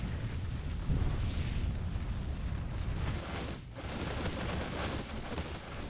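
Artillery pieces fire in the Call of Warhammer Chaos Dwarfs battle game: a dense, continuous rumble of blasts and booms that stays loud throughout, with no clear gaps between impacts.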